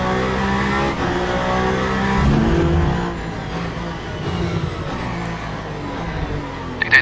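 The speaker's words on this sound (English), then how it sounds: "as we drive into turn 8, we brake very heavily" A Ferrari 296 GT3 race car in the video game Le Mans Ultimate braking hard into a turn, its engine loud and droning, then dropping in pitch as it slows, with a faint tyre squeal near the end.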